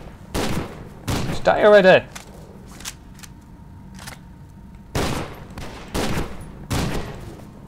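Shotgun fire in the shooter F.E.A.R. 2, loud sharp blasts in separate bursts with gaps between, mixed with a person shouting.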